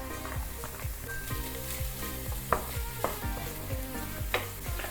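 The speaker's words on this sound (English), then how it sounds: "I'm heating some coconut oil again in a pan, in a frying pan. We're gonna add 1 clove of garlic, 150 grams of our vegan mince," Garlic and vegan mince fry in hot coconut oil in a frying pan, giving a steady close sizzle with repeated scraping stirs from a utensil against the pan.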